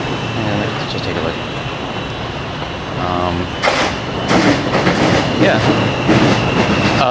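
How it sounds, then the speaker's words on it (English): A passenger train running on its rails, a loud close rumble with rhythmic clickety-clack and rising clatter as it passes, with a voice briefly heard over it. "The train system here is actually really efficient."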